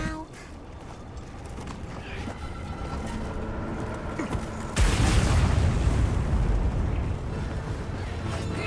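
A bomb goes off in Monster Hunter Wilds, a sudden loud boom about halfway through that leaves a dense rumbling roar. Before it comes a busy bed of game ambience and clattering effects.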